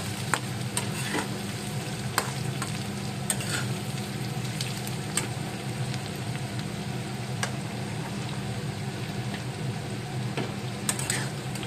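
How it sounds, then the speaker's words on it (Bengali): Potatoes and onions fry in oil with a steady, even sizzle, punctuated by occasional sharp clicks of a utensil stirring the pan, close and without any talk. "এখানে আলুটা আর পেঁয়াজটা লাল লাল করে ভাজা হচ্ছে"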